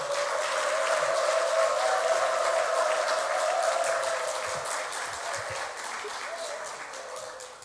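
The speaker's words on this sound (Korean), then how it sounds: "우리 박수로 앞으로 모시도록 하겠습니다" A church congregation applauds to welcome the pastor to the pulpit for the Sunday sermon, a steady wash of clapping that holds for several seconds and then gradually fades.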